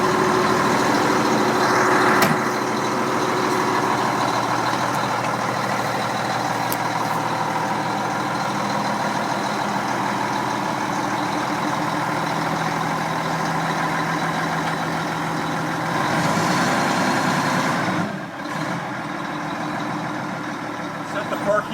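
A fire truck engine runs with a steady low rumble as the vehicle moves off, loud and continuous throughout, with someone talking over it and a brief hiss near the end.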